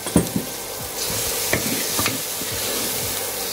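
Tomato mixture stirred in a hot pan for Maharashtrian misal pav, sizzling steadily with a few sharp scraping strokes of the spoon, close and moderately loud with no talking.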